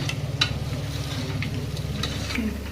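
Mutton pieces coated in masala fry in a pan with a low, continuous sizzle, broken by the scrape and clack of a spoon stirring close by.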